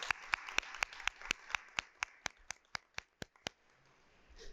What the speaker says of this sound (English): let's give all of our partners and sponsors a wonderful round of applause